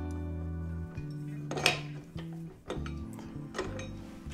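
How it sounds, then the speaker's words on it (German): A dough hook is fitted into a stand mixer, making a few sharp metallic clinks and clicks over a steady low mechanical hum. "den Knethaken da eben schnell einbauen"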